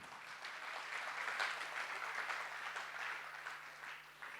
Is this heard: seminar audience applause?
yes